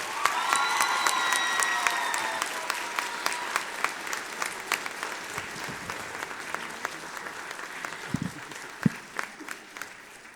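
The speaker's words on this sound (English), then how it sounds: "Would you give her another round of applause?" Audience applause fills a school spring music concert, a dense sustained clapping from a full hall with a few light cheers, gradually thinning toward the end.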